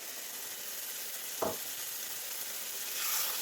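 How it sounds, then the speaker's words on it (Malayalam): Ground masala paste going into sizzling spices for a rajma kidney bean curry, a steady close frying hiss with one brief scrape or splash midway and a slight swell of sizzle near the end. "ഇനി നമുക്കത് അതിലേക്ക് അരച്ച് വെച്ച അരപ്പ് ചേർത്ത് കൊടുക്കാം."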